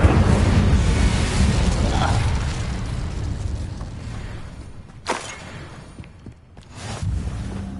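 An Incendio fire spell cast in Hogwarts Legacy bursts out as a loud whooshing blast, fading over several seconds, then followed by a few sharper magical pops and a rising swell near the end.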